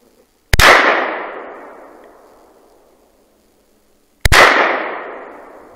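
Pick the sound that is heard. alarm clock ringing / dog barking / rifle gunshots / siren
rifle gunshots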